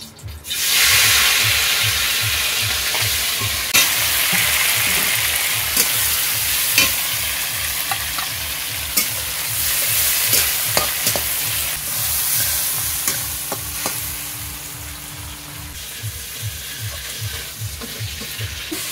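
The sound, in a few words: prawns frying in hot white oil in a wok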